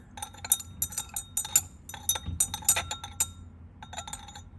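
A rod stirs a warm blue copper solution in laboratory glassware, producing rapid, bright clinks in irregular clusters. They are close and moderately loud over a quiet background hum.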